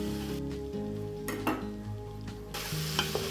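Mushrooms, onions and other vegetables frying in a soup pot, heard as a steady close sizzle with a spoon knocking and scraping against the pot and a brighter hiss near the end, with no talking.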